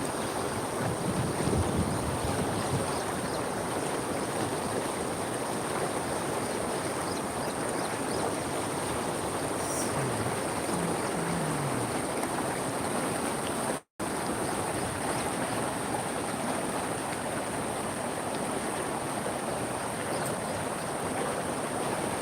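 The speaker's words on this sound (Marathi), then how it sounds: "नदीला पूर आलेला आहे मित्रांनो बघू शकता तुम्ही अशा प्रमाणात पाऊस झालेला आहे" A river in flood after heavy rain, a constant broad roaring rush of water with wind buffeting the microphone, unbroken and loud throughout.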